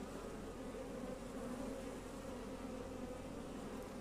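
Honeybees buzzing around a restless, likely queenless hive on a Portuguese farm in a continuous, even drone, a dense swarm hum close by, fairly faint and steady with no voices.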